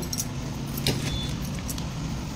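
Bunch of keys jangling close by, a few light metallic clinks and rattles over a steady background rumble, with no talking during the sound.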